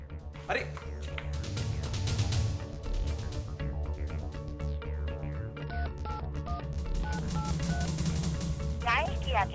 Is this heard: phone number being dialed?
yes